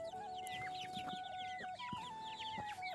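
Hens cluck repeatedly at close range with overlapping short calls, gathered around fresh water mixed with deworming medicine, clear over a quiet background.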